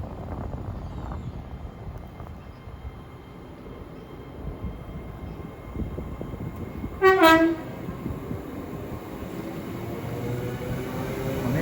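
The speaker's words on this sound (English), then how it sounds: "off goes the delayed 1731 service to Crewe" The delayed 17:31 service to Crewe departs Watford Junction on the West Coast Main Line, with a low rolling rumble throughout and one short, loud horn sounding partway through.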